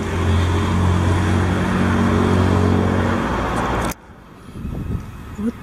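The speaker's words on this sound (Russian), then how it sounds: "единственный минус, вот это шумная улица рядом" Steady road traffic roars loudly from a noisy street beside a promenade, a constant engine wash that suddenly cuts away to a much quieter background with faint scattered rumbles.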